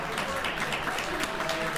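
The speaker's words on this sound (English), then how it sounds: "You know what they're clapping for?" A studio audience at a daytime talk show claps steadily and evenly throughout, a dense wash of applause with no break.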